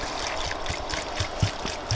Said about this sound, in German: Und gießen den Wein an.